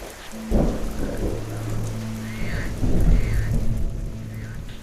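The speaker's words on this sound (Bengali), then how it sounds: "মাঝে মধ্যেই অন্ধকারের বুক ফালি করে নেমে আসছে বিদ্যুতের চাবুক, আর তারপরেই কান ফাটানো বাজ পড়ার শব্দ।" Heavy rain pours steadily in a rural Bengali village at night, broken by two loud, close rolling thunderclaps that swell over the hiss of the downpour.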